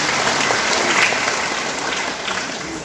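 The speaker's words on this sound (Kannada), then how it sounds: "ಅವ್ರೆಲ್ಲರಿಗೂ ಒಂದ್ಸಲ ಜೋರಾದ ಚಪ್ಪಾಳೆ" Loud applause from an audience at a village religious celebration honouring devotees, steady dense clapping filling the whole stretch without pause.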